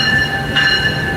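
A Union Station train arrives at track 2, a loud, steady rumble of rail cars overlaid with sustained high-pitched wheel squeal and a brief swell in the middle, with no voices.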